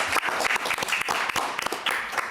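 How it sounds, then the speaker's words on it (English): An audience claps at a school board meeting in honor of a student competition winner, a brisk burst of many hands with dense, irregular slaps spread across the room at moderate loudness. "Oh, we want to clap for her too."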